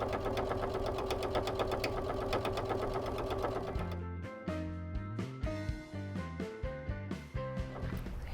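Sewing machine stitching down quilt binding at a corner: a steady whirring run first, then short rhythmic bursts of stitching with small pauses, close and moderately quiet.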